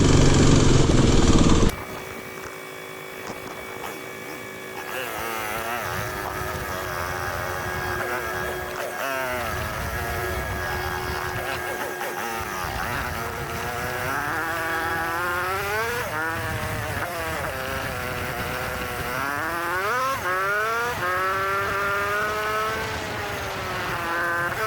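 Kawasaki KLX dirt bike engine while riding a rough trail, a steady close drone with rising and falling pitch sweeps as the rider works the throttle, running continuously after a brief loud opening burst.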